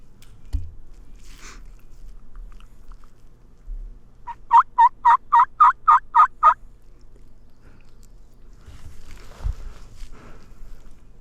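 A wild Merriam's turkey gobbles once in a rapid rattling burst of about nine pulses, moderately distant and clear over quiet Montana public land, with faint rustling and footsteps nearby.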